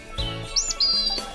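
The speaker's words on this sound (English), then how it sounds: "It's Daddy Bird" A bird chirps near its nest of branches and twigs, giving a few clear, high, sweeping calls close by over a faint steady background hum.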